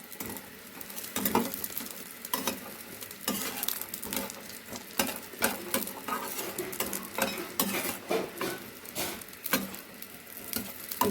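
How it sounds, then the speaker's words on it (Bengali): Fish and lentil dumplings fry together in hot oil with a steady sizzle, while a spatula stirs and scrapes the pan in irregular metallic clinks, close and fairly loud, with no voices. "বড়ি আর মাছ আমি একসঙ্গে ভেজে নেব।"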